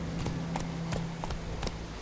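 Roach, a horse in The Witcher 3 video game, trots with a steady clip-clop of hooves over a constant low in-game background, with no talking.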